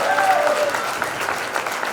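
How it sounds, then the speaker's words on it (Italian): A crowd claps steadily and fairly loudly throughout, with a faint whistle or cheer near the start. "Facciamo un grande applauso a Gianmarco Landi."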